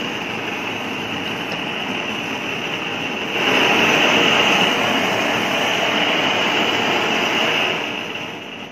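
An LPG gas torch burns with a steady loud roaring hiss that swells stronger partway through as the flame opens up, continuous and close with no talk.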